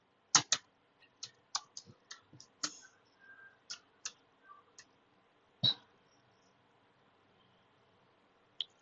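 Computer keys click in short, irregular bursts as an IP address is typed during a CCNA networking lab, each keystroke crisp and close, then a pause and one last tap.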